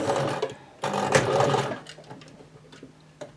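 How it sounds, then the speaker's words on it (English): A sewing machine whirs in two short runs of rapid stitching, with a pause and light clicks between them. "learn how to use the sewing machine"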